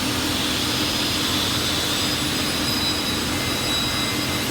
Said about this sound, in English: this is the 2017 Giben automatic panel saw